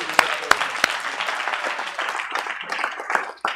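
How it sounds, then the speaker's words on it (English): Several sharp hand claps ring out at the start, then settle into softer, scattered clapping like a small group applauding, with voices mixed in underneath. "Hand clap."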